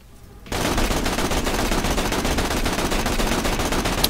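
A Smoky Bang Stick gun in Borderlands The Pre-Sequel starts after a brief quiet moment, then fires a loud, sustained rapid burst of closely spaced shots to the end.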